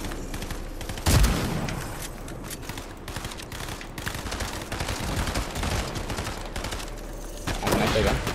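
Video game gunfire crackles through a competitive duo cash cup match, with rapid bursts and volleys of shots, close and loud, over background game sounds.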